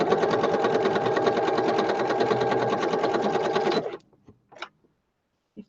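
A sewing machine runs a straight stitch through fabric scraps, a steady close whirring hum that stops abruptly after about four seconds, followed by a few soft handling sounds.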